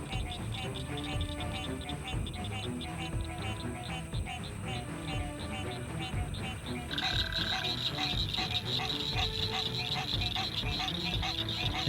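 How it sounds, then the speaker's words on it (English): A green tree frog calls from beside a pond after a Texas rainstorm, repeating a loud clonking, honking croak over a dense chorus of other frogs. Another, higher call joins partway through. "Hear that loud clonk or honking sound? That's definitely a green tree frog."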